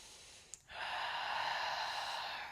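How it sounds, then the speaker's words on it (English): A single long, steady breath flows close to the mic during a gentle yoga practice, starting with a small catch and then holding as an even, airy rush with no talking. "take a breath."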